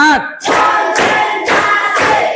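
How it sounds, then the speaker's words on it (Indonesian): A class of schoolchildren claps together in a counted rhythm, with three loud, evenly spaced group claps following a brief voice at the start. "Tepuk 1, tepuk 2, tepuk 3, Tepuk 4."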